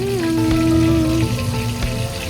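A burger patty frying in a pan gives a steady, close sizzle that holds evenly throughout, with no talk over it.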